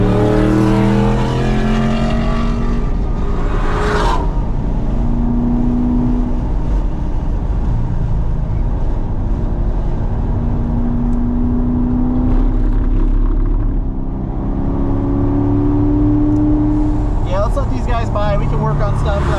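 A car engine drones and revs continuously on the East Track of a motorpark race circuit, rising and falling through corners with a loud in-cabin sound, while people talk throughout.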